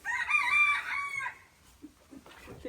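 A rooster crows loudly and close in a henhouse, one long call of about a second, followed by soft scattered clucking from chickens.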